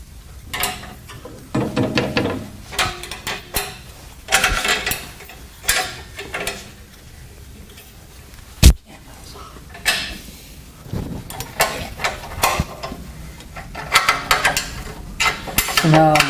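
Ratcheting and metallic clicks of locking nuts being tightened on a rotary blade sharpener come in repeated bursts, with one sharp clank partway through, interspersed with light mechanical clatter and some speech in the background.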